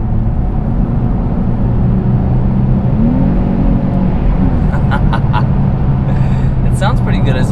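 The V6 engine of a 2021 Chevy Blazer RS hums steadily from inside the cabin and rises slightly as it accelerates, with people talking over it.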